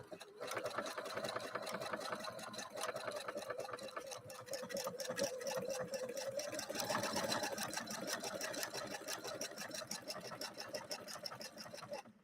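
A Husqvarna sewing machine runs steadily as it lays down a stitch, a continuous close mechanical whir with a rapid needle rhythm that holds an even level throughout.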